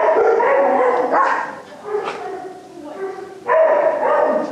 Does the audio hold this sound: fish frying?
no